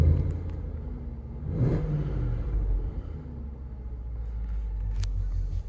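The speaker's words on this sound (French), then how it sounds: "Je vais peut-être vous faire un petit coup de gaz." A Range Rover Sport SVR 575 4WD idles in dynamic mode with a deep, close rumble, then a brief rev swells and falls back to the low idle, with no talking.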